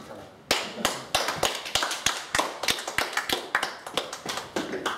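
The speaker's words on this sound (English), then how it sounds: "I'd like you to all raise your glasses and applaud Matthew Kelleher" Audience at a premiere screening of World of Wigan breaking into quick, crisp applause, a dense run of claps and taps close by that sets in sharply after a quiet half second and keeps up steadily throughout.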